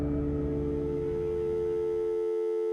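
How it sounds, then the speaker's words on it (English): A steady, continuous telephone dial tone holds evenly and cuts off near the end, leaving silence. "she hears the dial tone"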